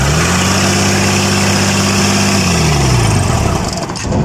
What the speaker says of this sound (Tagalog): narinig niyo na nung pinastart ng ating kasama yung engine ay agad na nagtaas yung kanyang RPM kahit hindi naman nag-accelerate